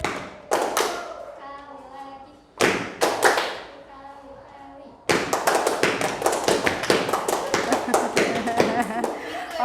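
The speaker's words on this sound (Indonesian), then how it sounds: "Oke, tepuk tangan." Children in an Indonesian classroom clap their hands in several loud bursts of rapid clapping, first two short rounds and then a longer sustained round, close and bright.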